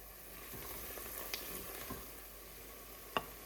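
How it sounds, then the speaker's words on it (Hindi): Onions fry in hot oil, the base for a beef karahi gravy, giving a faint, steady sizzle with a few soft clicks and one sharper tap near the end. "प्याज डाल लेते हैं, प्याज को ब्राउन रंग आने तक पकाना है।"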